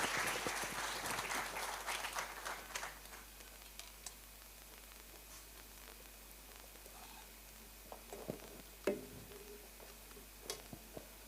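Audience applause for a panel discussion at a live stage event, a broad crackling patter that is loud at first, then thins over the first few seconds and fades to scattered faint claps and small noises.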